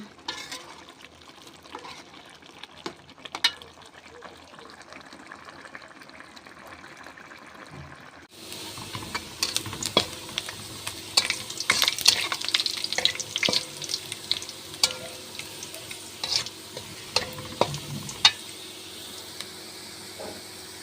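Cooked lentils get tempered with cumin in a kadai. After a quieter start, a louder crackling sizzle with watery bubbling and occasional stirring knocks takes over partway through and continues steadily.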